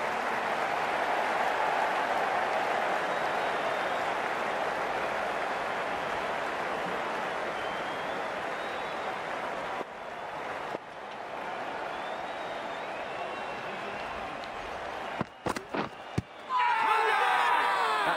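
A stadium crowd in the cricket video game Cricket 19 roars and applauds in a steady, loud wash of noise that dips briefly midway and breaks into a few short gaps near the end.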